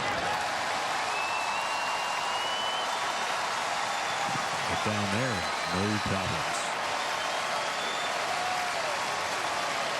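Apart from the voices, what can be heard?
sold-out baseball crowd applauding at Wrigley Field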